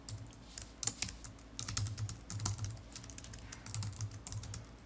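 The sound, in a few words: pressing the Ctrl Shift H shortcut on a computer keyboard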